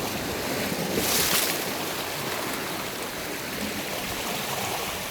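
Ocean waves wash up onto a beach around the feet of someone standing at the waterline, giving a steady, close, broadband rush of surf with wind hiss and a slightly stronger surge early on.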